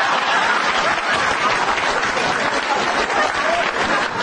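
Stand-up comedy audience applauds the comedian, a dense, even roar of clapping from a large crowd sustained at full volume for the whole stretch.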